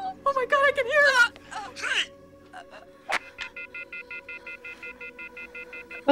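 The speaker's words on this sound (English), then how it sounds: "On the phone. Oh my god, I can hear that." Telephone sounds from the 1996 horror film Scream: a string of evenly spaced electronic tones and beeps from a phone, preceded by whimpering and tense voices, moderately faint under the film's soundtrack.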